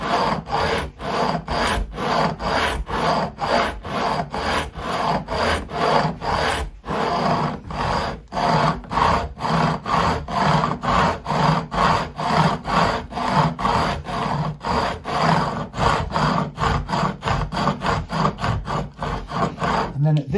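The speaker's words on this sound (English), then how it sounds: "I'm mostly concentrating on vertical edge beveling now." Steady, rhythmic back-and-forth strokes of a file bevel the fret ends on a Stratocaster-style guitar neck, each rasping pass loud and close, repeating evenly for a long stretch with one brief pause.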